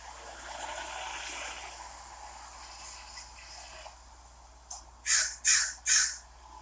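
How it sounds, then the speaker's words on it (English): Crows outdoors at a camp give three loud, harsh caws in quick succession near the end, after a stretch of steady wind-like background rush. "And the crows are going to get their food too. They're angry. They're hungry."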